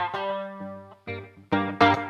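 Electric guitar notes played through delay and flanger, a sustained tone that fades and repeats, followed by a few sharper plucked notes with swirling, echoing tails, loud and alone.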